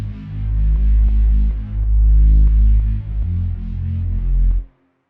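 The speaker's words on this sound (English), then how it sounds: "I'm pretty sure the Falcon will be the sub." Falcon software synthesizer sub bass patch with a touch of high end, a loud deep low note pulsing in a steady rhythm for about four and a half seconds before cutting off abruptly.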